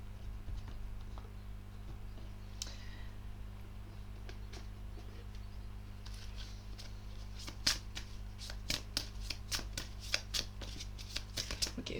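Tarot cards shuffled by hand, a quick run of crisp riffling snaps and flutters close by over a faint steady background hum, growing busier toward the end.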